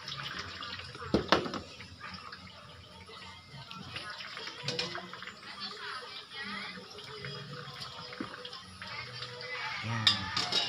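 Water is poured over chicken legs while the chicken is being dressed, making irregular splashing bursts from a tap or pour, fairly close.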